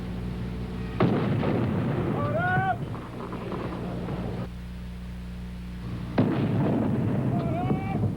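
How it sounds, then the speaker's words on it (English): Ceremonial cannon salute in New York's Central Park: two heavy booms about five seconds apart, each with a broad rumbling tail that lingers over quiet outdoor ambience. "In one of the nation's most famous parks, New York Central Park, a cannon sounded, sundering the quiet"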